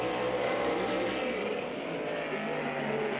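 Super Cup stock cars racing on a half-mile speedway, a steady loud roar of engines droning continuously throughout, with no gaps or distinct passes.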